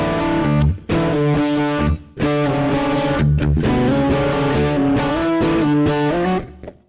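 Distorted electric guitar playing the bridge line of a song through an effects unit, a loud continuous riff of sustained chords with brief breaks, no voice.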